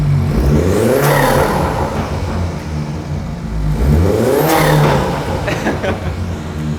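BMW F30 with the B48 engine and an MST Performance intake, revved twice in quick succession, each blip a sharp rising roar that falls back to a throaty idle, close and loud.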